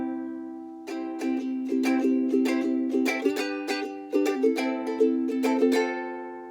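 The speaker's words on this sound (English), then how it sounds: "kind of creates that clang that I like to hear on the ukulele." A ukulele is strummed with the fingernails, giving a bright, clanging ring. Quick rhythmic strums repeat over a sustained chord, with no talking.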